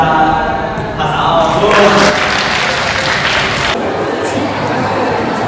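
A group of people applauding in a school hall after finishing a scene, loud continuous clapping with some cheering and chatter mixed in, sustained throughout.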